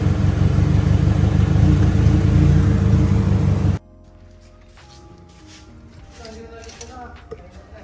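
A Toyota Starlet EP82 with a 4E-FTE engine idles roughly with a misfire, a loud uneven rumble for about four seconds before stopping abruptly, leaving faint background noises.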